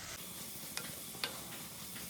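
Chopped onions fry softly in a pan for a mussel dish, a faint steady sizzle with two small spatula clicks as they are stirred, alone.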